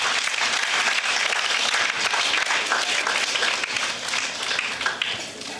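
A crowd at a company success meet celebration applauds as three people cut a cake, a loud, sustained wash of clapping that eases slightly toward the close.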